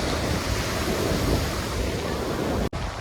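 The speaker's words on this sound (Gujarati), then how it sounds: "બહુ જોરદાર પવન છે ગાઈસ." Strong wind roars across the microphone at Devka beach in Daman, with the dense, continuous wash of waves merging into the gusts. The sound stays loud and unbroken apart from a sudden brief dropout near the end.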